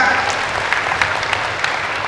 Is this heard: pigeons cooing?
no